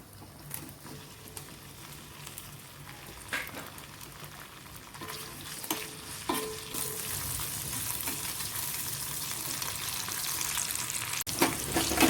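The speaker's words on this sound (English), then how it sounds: "Lady's fingers I've cut into pieces, so let us fry that" Cut pieces of okra fry in oil in a pan, giving a soft continuous sizzle that grows denser and louder over time, with a few light clinks of stirring.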